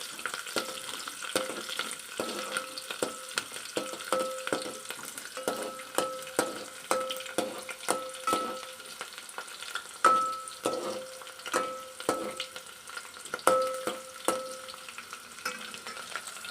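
Tomatoes going into a frying soy vegetable dish with onions, steady close sizzling with repeated sharp clinks and scrapes of a spoon stirring against the pan.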